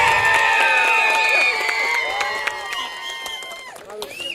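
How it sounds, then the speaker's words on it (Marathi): Crowd noise with clapping and cheering fills a prize ceremony for a box cricket premier league tournament in Taharabad, loud at first and gradually fading, with shouts and voices mixed in. "जोरदार टाळ्या"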